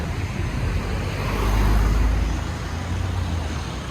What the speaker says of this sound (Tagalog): maraming sasakyan ngayon guys